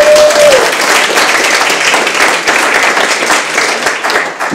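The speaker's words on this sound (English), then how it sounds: "Let's give all of our panelists some applause." An audience at an evening humanities panel event applauds the panelists, a loud, dense burst of clapping that continues evenly for several seconds before tapering slightly at the end.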